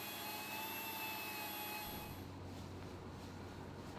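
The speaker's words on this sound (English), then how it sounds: "The inside corners have to be rounded out with the wee air grinder" A small pneumatic air grinder rounds the inside corners of a carbon fibre part, a loud, steady high whine that cuts off about halfway through, leaving a low background hum.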